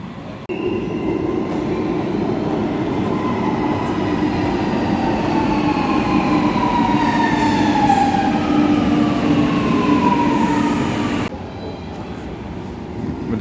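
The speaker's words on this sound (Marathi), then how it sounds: "मित्रांनो, आमची मेट्रो स्टेशनमध्ये एंट्री मारते." A metro train pulls into a station, its steady rumble and rising, falling wheel and motor whine filling the platform loudly for about eleven seconds before dropping away.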